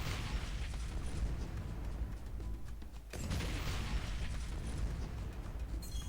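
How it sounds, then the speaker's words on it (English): Explosions from Bloons TD 6 make a dense, crackling roar of bursts and pops, loud and continuous apart from a short lull near the middle. "The explosion sounds"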